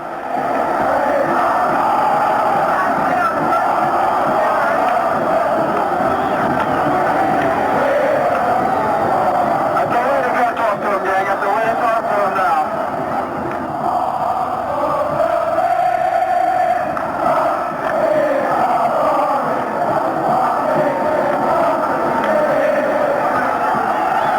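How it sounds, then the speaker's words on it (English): A large stadium crowd of Army cadets cheering at the 1954 Army-Navy football game, a dense, steady roar of massed voices heard from a distance on an old, hissy recording, with no distinct speech. "Far across the way, the Corps of Cadets are cheering."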